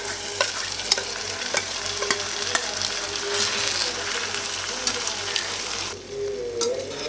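Marinated chicken frying in a pan of red Hyderabadi-style gravy, with steady sizzling under repeated clanking spoon strokes as it is stirred, the sizzle easing briefly near the end; no talking.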